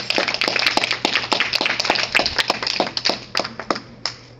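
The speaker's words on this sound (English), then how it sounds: "let's give God a hand clap for that" Church congregation clapping together in a sanctuary, a dense run of sharp, fairly loud hand claps lasting several seconds and easing off toward the end, with a low steady hum beneath.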